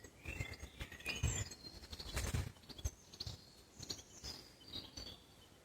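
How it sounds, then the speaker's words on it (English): Faint bird chirps and calls scattered over an outdoor background of rustling and soft knocks, distant and quiet. "identify any of the bird sounds that they hear"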